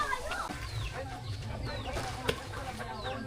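Chickens cluck and chatter repeatedly against a busy outdoor background, with a few higher calls mixed in and steady ambient noise throughout.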